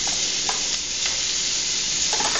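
Peeled, defrosted shrimp sizzling as they land in a hot pan, a loud, steady hiss with light stirring scrapes close by and nobody talking.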